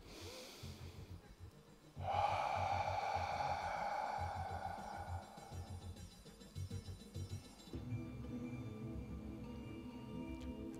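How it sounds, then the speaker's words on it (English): Slow, deep breathing in and out during a guided dance class exercise, a long airy exhale followed by a quieter inhale, close and fairly faint, with no speech. "take two deep breaths."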